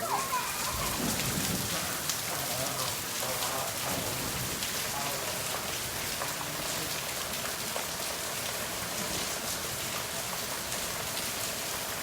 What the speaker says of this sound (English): with the rain continuing and continuing